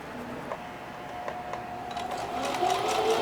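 A sewing machine stitches denim in a rapid, steady mechanical whir with faint ticking, alone and close, growing a little louder toward the end.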